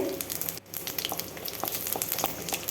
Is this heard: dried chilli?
yes